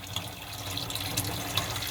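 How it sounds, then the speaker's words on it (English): Water rushes steadily into a laboratory launderometer as it fills for a colorfastness-to-laundering test. The gushing stream is close, constant and even, with no speech over it. "Then you're going to turn on your water, making note of the water line within the laundrometer."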